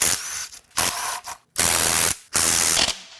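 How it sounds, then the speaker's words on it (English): Rapid ratchet clicking comes in four loud bursts, with short pauses between them, as a wrench works on the intake manifold bolts of a 2001–2005 Honda Civic 1.7L D17 engine with 250,000–300,000 miles. No one talks. "The next step is to unbolt the intake manifold."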